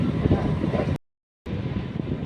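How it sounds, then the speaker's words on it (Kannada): A train pulling out of Anekal railway station, a low rolling rumble heard from on board, with a short stretch of silence splitting the sound. "ನಮ್ಮ ಟ್ರೈನ್ ಈಗ ಆನೇಕಲ್ ರೈಲ್ವೆ ಸ್ಟೇಷನ್ನು ಬಿಟ್ಟಿದೆ"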